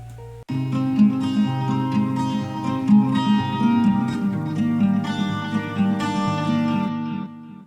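An electric guitar loop with a short, subtle reverb plays picked notes and chords in a steady rhythm after a brief lead-in, recorded in FL Studio, and fades with a slight tail at the end.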